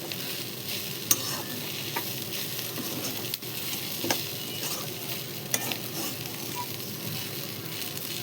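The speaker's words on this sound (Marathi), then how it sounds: "आपण थोडंसं परतून घेऊया सगळं मिक्स करून आणि मग नंतर गॅस बंद करूया." Cluster bean (gavar) curry with green masala and crushed peanuts being sautéed and mixed in a pan, a steady soft sizzle with a few spatula scrapes and taps, close by and without speech.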